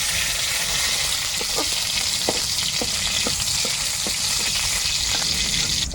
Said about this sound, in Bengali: এবার আমি কড়াইয়ে যে তেল আছে সেই তেলে আমি লঙ্কাটা দিয়ে দেব।